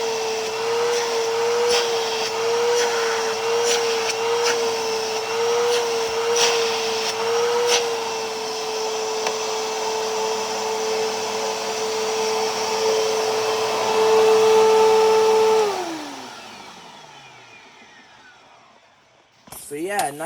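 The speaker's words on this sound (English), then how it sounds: "So yeah, not a bad vacuum cleaner." A Bissell CleanView Rewind Pet upright vacuum cleaner runs with a steady loud motor whine, then is switched off and winds down audibly before a short clunk at the end.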